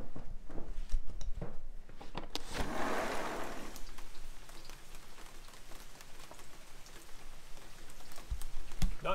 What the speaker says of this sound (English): It was raining pretty hard a second ago, but not too bad so far.